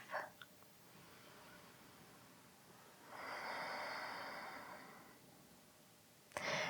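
Breathing during a yoga pose, a faint slow exhale rising as a soft breathy swell, with a few small nasal snorts and a quick rustle near the start and end.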